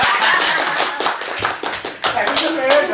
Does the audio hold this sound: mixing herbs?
no